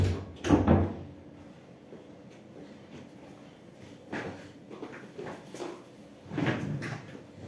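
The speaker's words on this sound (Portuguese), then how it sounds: "Só fechar a porta." A door is shut once indoors, giving a dull close thud with a short rattle, followed by a few softer knocks and shuffles in an otherwise quiet room.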